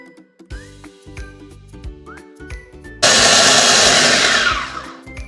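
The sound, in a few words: blender grinding spice paste for cooking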